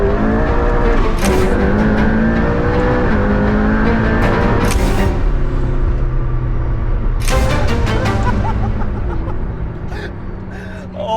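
A McLaren P1 hybrid hypercar is being driven, its engine droning loudly and steadily and rising in pitch throughout, with surges of revving and acceleration along the way.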